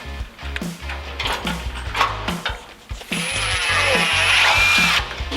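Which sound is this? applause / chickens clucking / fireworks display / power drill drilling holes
power drill drilling holes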